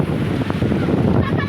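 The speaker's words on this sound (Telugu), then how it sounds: "మచిలీపట్నం బీచ్ ఇది చూడండి" Waves wash in at Machilipatnam beach under strong wind buffeting the microphone, a constant broad roar with no clear break.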